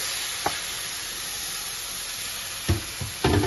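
Chicken pieces fry with spices in a pan, making a continuous hissing sizzle, with a few clattering stirs toward the end.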